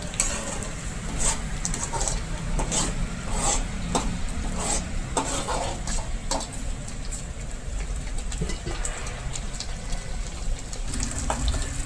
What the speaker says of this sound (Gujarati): પ્યોરીને સરસ રીતે સાતળી લેશું. જ્યાં સુધી તેલ અલગ ન પડે, તેલ ન ફૂટે ત્યાં સુધી સાતળવા દેશું.